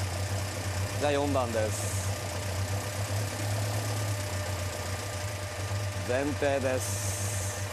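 A car engine fitted with a Weber carburettor idles steadily with a low, even drone, while someone talks over it in short phrases and a brief high whine appears twice.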